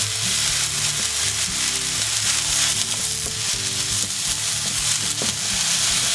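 Spring onion and celery sizzle loudly in a hot wok, a dense, constant frying hiss close up, with faint stirring knocks underneath.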